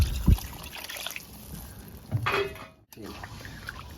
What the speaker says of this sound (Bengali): এবারে আমি 1 বাটি জল দিয়ে দেবো